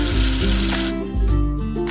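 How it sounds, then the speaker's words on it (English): Water runs from a tap to rinse soap off a letter in a children's cartoon game, a loud, close, continuous gushing with shifting tonal layers and no talk. "Wash away the soap with water."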